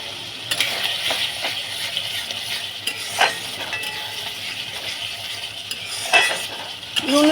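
Spice masala of onion, ginger, garlic, green chili and salt being stirred and fried in a pan, soft sizzling under repeated scraping strokes and a few metallic clinks of a spoon against the pan, no talking.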